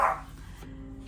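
Dogs bark in a short, fairly loud burst at the start, followed by quieter low rumbling in a home setting.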